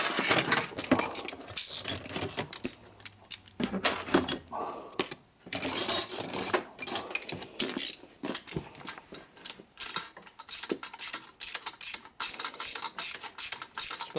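Ratcheting and metallic clicks from bolts being tightened into the engine case of a 1972 Harley-Davidson Sportster Ironhead XLCH, in rapid irregular bursts with short pauses, close and fairly loud, with no talking.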